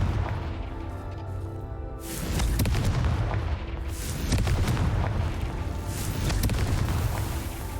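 Confringo fire spell blasts from the video game Hogwarts Legacy: loud booming explosive bursts that surge in roughly three waves over rumbling game sound and music, with no talk.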